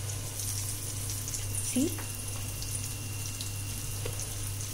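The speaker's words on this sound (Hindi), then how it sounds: "अब जो हमने चिकन यहाँ पे कॉर्नफ्लावर लगा के रखा था उसको एक एक करके फ्राई करेंगे।" Cornflour-coated chicken pieces frying in hot oil, a steady close hiss with a brief louder crackle as a piece drops in, under a short spoken word.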